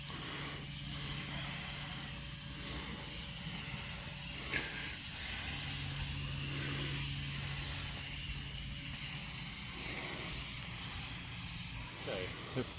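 Steady close hiss of coil cleaner spraying onto an A/C condenser coil, a continuous airy wash with faint low hum underneath and a few brief clicks, no talking.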